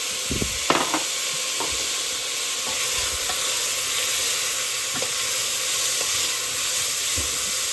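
A utensil scrapes ingredients for steak and potatoes soup out of a cooking pot, giving a few distinct scrapes and knocks early on over a continuous loud sizzling hiss, close by, with no talking.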